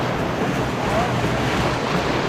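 Rushing whitewater of river rapids on the Green River, Section A, at 1700 cfs, heard from a raft as a steady, loud broadband roar of churning water mixed with wind buffeting the microphone.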